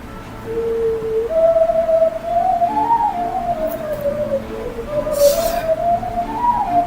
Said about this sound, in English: this is a tutorial on the wolf whistle or the finger whistle